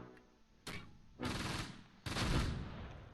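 Machine gun and rifle fire in the WWII strategy game Close Combat, near Caen in June 1944: three loud bursts of gunfire, each sharper and heavier than the last, with sustained rattling trails between them.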